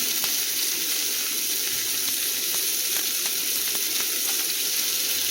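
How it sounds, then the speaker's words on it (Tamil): Tomatoes and salt sauté in a pan for radish chutney, giving a steady, close sizzle and crackle with faint stirring clicks throughout, and nobody speaking. "உப்பு சேர்த்து நம்ம வதங்க விடலாம்"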